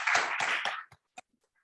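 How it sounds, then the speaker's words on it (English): An audience gives a short burst of applause for panel speakers, close and fairly soft, fading out within a second into a few isolated claps. "Let's give another round of applause to the speakers."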